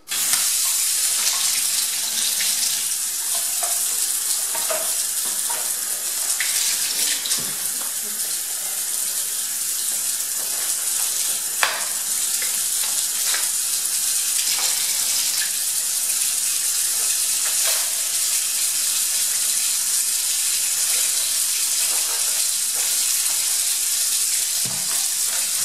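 Hot water pours steadily into a bottle to dissolve Saint-Marc cleaning powder, a continuous close gushing hiss with occasional clunks and gurgles.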